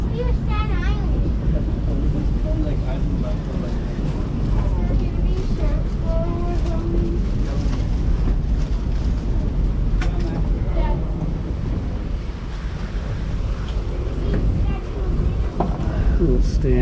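A low, steady ferry engine rumble drones beneath constant wind buffeting the microphone aboard the Staten Island Ferry, with people talking intermittently over the noise.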